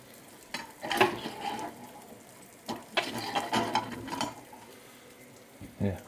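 Bacon frying in a pan gives a soft sizzle under a few louder clattering stirs and scrapes, close by with irregular bursts and no clear talk.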